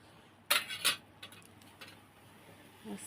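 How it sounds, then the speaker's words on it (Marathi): Green chillies crushed by hand with a metal tumbler for Marathi chilli thecha: a few faint, sharp knocks and taps, with two close strikes early and softer scattered ones after, in a quiet room. "तवा खाली उतारते आणि घेते किसून असं ठेसून घेते"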